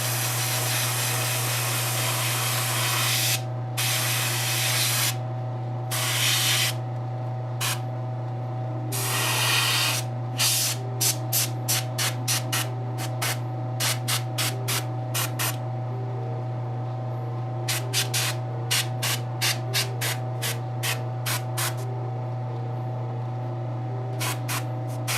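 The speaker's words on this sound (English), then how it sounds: "Don't have to spray much on the yellow, it goes a long way." A spray gun lays candy apple red clear coat onto a custom Firestar statue in a paint workshop, with long hissing bursts and then quick repeated short spurts over a steady low hum.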